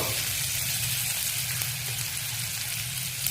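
Panch phoron spices hitting hot oil with browned onions for a fish-head cauliflower dish, giving a steady, close, hissing sizzle that stays even throughout with no voices.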